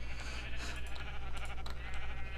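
Sheep in the Minecraft video game bleat repeatedly in short wavering calls over a steady low hum, several overlapping cries close together at moderate loudness.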